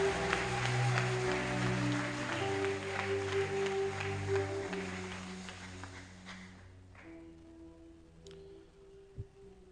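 A church congregation at a Sunday service cheers and claps loudly, a dense wash of applause and voices that gradually thins and fades toward the end.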